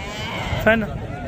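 Goat at a busy Pakistani livestock market gives a single short bleat, close and clear above a steady crowd murmur with people talking.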